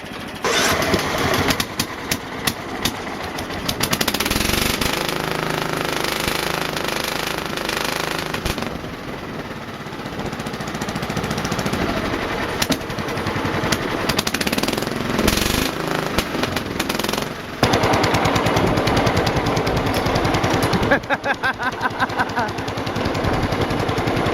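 Loud, raw John Deere tractor engine with an open stack and no muffler, chugging and barking with rapid uneven pops, revving up and down over a long stretch, close and unmuffled.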